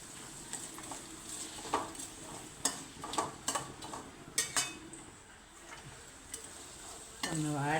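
Onion for a cauliflower curry fries in a pan with a quiet, steady sizzle, while a spoon stirs and scrapes against the pan in short, irregular knocks.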